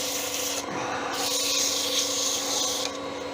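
Steady, close rasping of sandpaper against spinning wood, a continuous scratchy hiss that swells and eases slightly.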